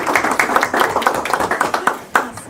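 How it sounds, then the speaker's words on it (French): A small room of people at a municipal council meeting claps steadily for a new director, a dense run of close hand claps that continues for a few seconds. "je vous donne une bonne main d'applaudissement"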